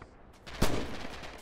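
A single sharp gunshot cracks out nearby in the World War II shooter Red Orchestra 2, followed by a short echoing tail.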